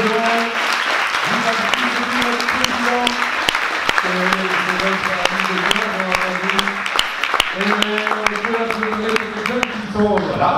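Audience applause at the Fest'up 2019 festival closing ceremony, steady dense clapping through the whole stretch, with a voice talking and sustained tones recurring over it.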